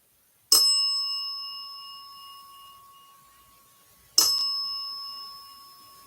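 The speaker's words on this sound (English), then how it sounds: "That's why you're ringing the bell so much" A bell in a reputedly haunted house rings twice, each strike a sharp metallic ding with a long ringing decay, about three and a half seconds apart in an otherwise silent room.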